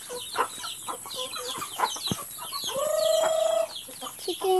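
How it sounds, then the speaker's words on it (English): Backyard chickens clucking and squawking close by, with busy overlapping calls and a couple of drawn-out, crow-like cries toward the end. "Ang chicken ni tatay sobrang dami."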